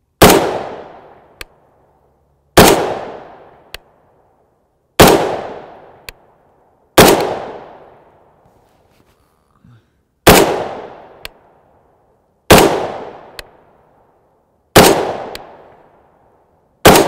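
Seven sharp, loud rifle shots from a 16-inch-class precision rifle firing 7.62x51mm .308 168gr OTM match ammunition through a Yankee Hill 3-port muzzle brake, evenly spaced about two seconds apart, each with a long decaying outdoor echo.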